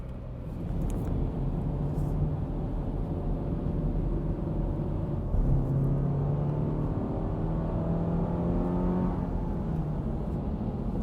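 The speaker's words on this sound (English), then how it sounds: "I just want to check the engine sound again." A Toyota GR86 engine hums steadily up close, then climbs in pitch through two distinct revs, around the middle and again near the end, before settling back; no talking.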